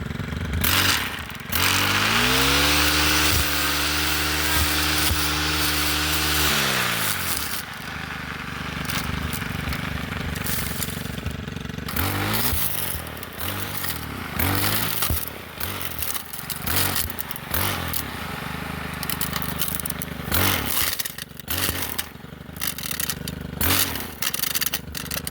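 Homemade bush hog blade on a stick whirring through grass: a loud, steady engine drone with revving pitch swings, then choppy bursts as the spinning blade slashes and scrapes through vegetation.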